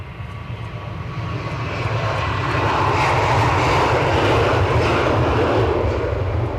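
An airliner takes off at Edinburgh Airport, its engine roar building over the first few seconds into a loud, sustained rumble that holds steady to the end, with no voices heard.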